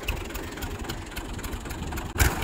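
A tractor engine idles in neutral with the clutch pressed, giving a steady low rumble that runs throughout, with a brief dip and a small clunk near the end.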